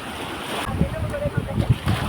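A glass-bottom speed boat on the sea off Lakshadweep: a steady wash of wind and water noise with a low rumbling pulse underneath, loud and close throughout.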